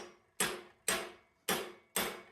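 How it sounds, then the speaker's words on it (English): Four evenly spaced, sharp metallic hammer blows driving a spiral pin into the clutch pedal of an MTD Ten Hundred tractor, each strike ringing briefly and decaying before the next, close and alone. "now I'm going to be able to hammer it in the rest of the way."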